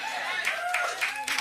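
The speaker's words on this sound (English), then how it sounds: "The applause from residents who belong to a group representing tenants of landlord Joel Wiener, CEO of Pinnacle Group." Residents who are tenants of landlord Joel Wiener, CEO of Pinnacle Group, applaud in bursts of clapping, moderately loud, with a voice over it.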